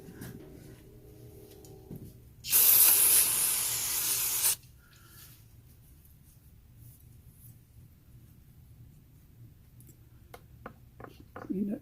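A loud, steady hissing spray bursts from the generator of an early-1930s Coleman 228B lantern for about two seconds, then cuts off abruptly, leaving quiet background with faint clicks.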